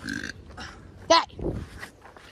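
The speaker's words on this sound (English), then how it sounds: "I give you permission to burp." A short, throaty burp in an Among Us-style cartoon game, coming just after voices and followed by a low grunt-like rumble, all brief and close.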